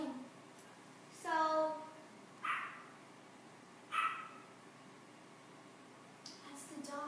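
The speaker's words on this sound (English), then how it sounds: "that's the dog" A dog barks a few separate times at moderate distance, short sharp yaps spaced a second or so apart, with quiet room noise between.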